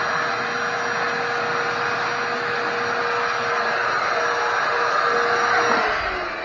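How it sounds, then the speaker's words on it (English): Vacuum cleaner sucking debris from the engine of a 1984 ATC 200S ATV during an oil change, a loud steady airy roar with a whine that dips slightly near the end. "Vacuum don't have that much suction."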